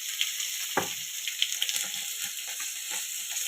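Nigella and cumin seeds frying in hot oil, a steady soft sizzle with a brief sharper crackle as they hit the pan, close and continuous.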